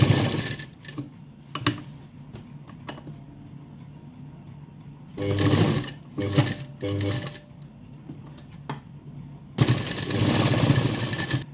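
A sewing machine stitches a double seam around an L-shaped corner on a blouse with lace, running in several rapid bursts separated by quieter pauses, close and fairly loud, with a voice talking between the runs.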